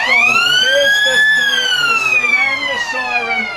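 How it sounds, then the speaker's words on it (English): A loud, sustained siren wails with a slowly rising then falling pitch to mark the end of an Australian football grand final, heard close and continuous for several seconds. "There's the siren."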